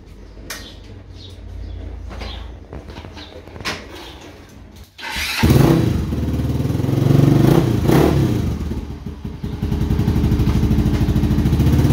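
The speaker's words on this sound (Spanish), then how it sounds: "Sacar la moto de aquí porque sí quisiera ir a dar una vueltita en ella" A Vortx 200 motorcycle engine starts after some clattering handling noises, then idles and revs loudly and steadily close by.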